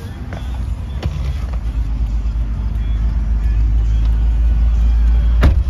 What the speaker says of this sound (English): Let's take you on a short test drive,